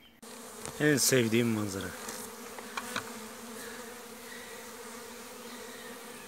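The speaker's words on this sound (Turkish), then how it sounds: "acemi arıların kovan yerini ezberleme eğitimi. İkindi uçuşu." Young honey bees buzz in a steady insect drone near the hive on an afternoon orientation flight, with a Senegal-strain colony nearby; a voice speaks briefly early on over the continuous hum.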